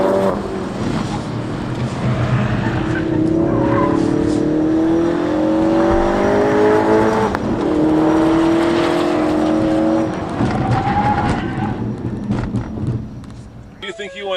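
A 2016 Ford Focus RS engine driven on a race track, rising revs sweeping up through the gears and bouncing off the rev limiter, loud and close inside the car, with talk partly over it.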